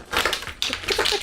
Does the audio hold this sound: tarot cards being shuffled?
yes